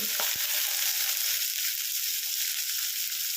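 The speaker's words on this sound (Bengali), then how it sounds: "এটা একটু ভেজে নেব।" Finely chopped onions frying with garlic in hot oil, a loud, steady, dense sizzle with a couple of brief knocks near the start.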